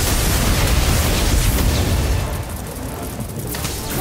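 The Confringo explosion spell in Harry Potter Magic Awakened erupts as a loud, noisy blast that rumbles on and then fades slightly toward a lower hiss, with no talk over it.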